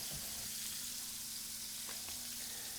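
Food braises in a hot seasoned pan, a constant crackling sizzle and hiss with a few brief clinks and stirring sounds.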